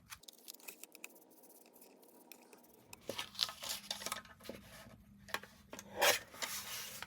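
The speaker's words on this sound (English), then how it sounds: "this other grayish one, I'm gonna just give a little bit of distress ink" Distress ink is dabbed and scuffed onto grayish paper ephemera, quiet and then a run of close, scratchy rubbing and tapping strokes with one sharper rasp near the end.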